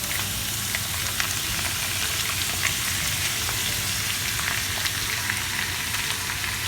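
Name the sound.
paneer and peppers frying in a pan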